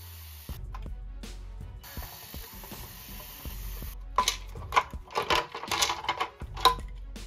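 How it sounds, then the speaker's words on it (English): Screws are backed out of the fan cover of a JBL PartyBox 710 speaker during a teardown, with repeated close ratcheting clicks from a screwdriver and some plastic rattling, getting busier and louder toward the end. "To remove the fan, we will need to take off a total of 5 screws."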